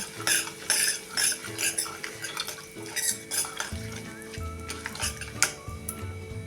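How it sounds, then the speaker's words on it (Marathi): A spoon scrapes and stirs chilli powder rhythmically in a pan over a gentle sizzle of hot oil, with metallic clinks and no talking. "आवडीप्रमाणे ही मिरची पावडर टाकून घेऊया ते आता मिनिटभर असं हलवूया"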